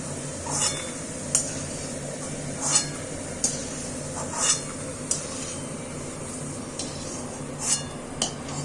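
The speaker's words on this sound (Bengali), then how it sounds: "আমি এখন আলুগুলোকে আস্তে আস্তে তুলে নিচ্ছি।" Fried potatoes are lifted out of a pan with a metal utensil while making chire pulao, leaving light scattered clinks and scrapes against the pan over a low steady sizzle of hot oil, with no talk.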